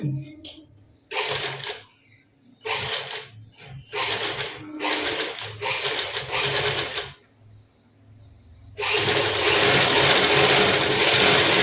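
Stitching a high neck blouse on a sewing machine: several loud bursts of motor running separated by brief pauses, ending in a longer continuous run.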